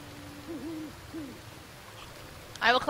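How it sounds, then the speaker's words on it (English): An owl in the video game Never Alone gives a few soft, low, wavering hoots over quiet ambience, and a voice briefly starts talking at the end. "I will collect this owl thing."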